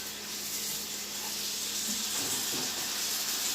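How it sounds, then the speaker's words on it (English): Marinated pork chops sizzle in a hot pan with a steady, bright hiss and faint crackles throughout. "Alright, they're sizzling in there."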